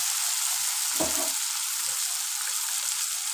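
Ground coriander and chili powder sizzle and fry in a pan for a spicy Bengali parshe fish curry, with a steady hiss throughout and a brief scrape of stirring near the middle.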